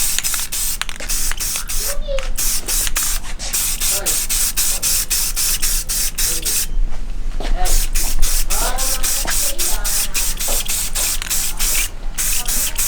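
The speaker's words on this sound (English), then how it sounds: "Do light coat all around and" A Rust-Oleum rattle can sprays light coats onto the faces of SSR Type F wheels, producing close, loud hissing bursts separated by short pauses, with a voice speaking briefly in between.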